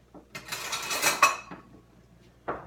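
A ladle scrapes and clinks against a pie dish and bowl while ricotta filling is spooned in, a few close metallic clatters followed by one last clink after a pause.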